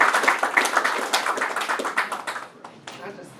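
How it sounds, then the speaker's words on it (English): Audience applause after a speaker's talk, a dense patter of clapping hands that stays steady, then thins and fades toward the end. "So we'll give Rachel another round of applause."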